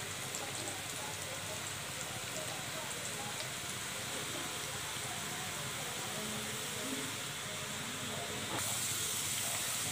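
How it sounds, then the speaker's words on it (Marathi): French fries deep-frying in oil over a medium flame, a steady hiss and bubbling sizzle running throughout at close range, growing slightly brighter near the end. "तर या पद्धतीने ते तळून घ्यायचे"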